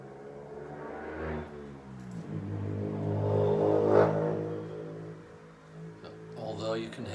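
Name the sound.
road traffic noise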